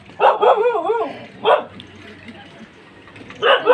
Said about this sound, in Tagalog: O, ayan, may aso pa.